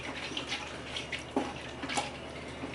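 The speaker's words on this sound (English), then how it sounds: "we're just gonna add a little bit of water like so and mix that all around" Water splashes into a pot of Cajun gumbo and is stirred through, giving uneven sloshing and a few sharper splashes, moderately close.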